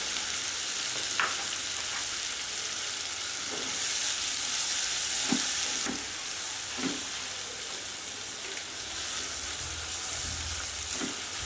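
Chopped onions frying in a pan for an egg bhuna, giving a continuous loud hissing sizzle with occasional stirring clicks and scrapes, and no voices.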